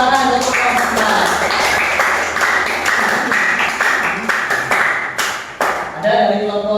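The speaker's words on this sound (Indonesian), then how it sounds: "tepuk tangan untuk kelompok A" Classroom applause for a student group in a junior high history lesson, a steady wash of many hands clapping for several seconds, fairly loud and close, with a few sharper claps standing out.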